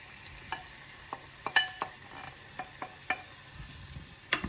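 Fresh chopped tomatoes going into a pan of clam sauce, heard as a low sizzle broken by a series of scattered clicks and scrapes of a utensil against the pan, quiet and close, without talking.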